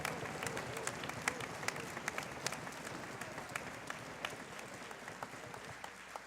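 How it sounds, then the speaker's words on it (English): A crowd applauding at the 2006 MIB in Technology event, moderately distant, steady clapping with individual sharp claps popping out above the continuous patter. "Let's give them another round of applause."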